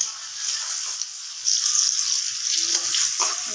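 Bay leaf, chili and onion sizzling in hot oil in a pan while being stirred, a steady faint hiss throughout that grows slightly louder partway through, with occasional light scrapes and no talking.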